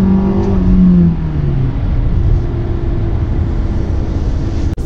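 A 2018 Volkswagen Tiguan S 4Motion engine hums from inside the cabin under throttle in sport mode, a steady drone with a tone that slides down early on and then holds, loud and continuous.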